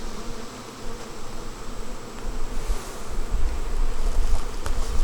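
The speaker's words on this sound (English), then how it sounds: "Try to smoke some of those bees down into the hive." Honeybees swarm and buzz around an opened hive while it is being moved: a dense, steady drone that swells louder toward the end, with some low rumbling handling noise underneath.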